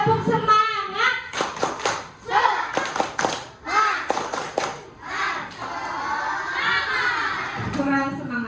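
A classroom of children perform a rhythmic spirit clap, sharp bursts of hand claps in a patterned sequence mixed with their chanting voices, with a teacher speaking before and around it.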